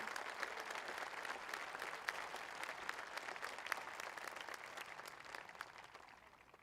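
Audience applause at a high school commencement ceremony, a dense, steady wash of many hands clapping that fills the hall evenly and tapers slightly toward the end.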